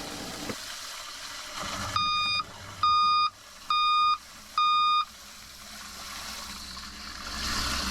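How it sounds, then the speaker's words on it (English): A boat's overflow alarm gives four evenly spaced electronic beeps, each about half a second long, over a low steady hum, then the hum continues alone. "So that was the overflow alarm"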